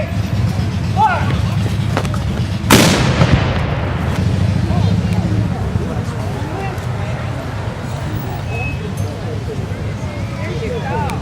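A ceremonial cannon salute for July 4 fires one loud, booming shot with a sharp blast and long rumbling decay, heard outdoors amid crowd noise and background talk.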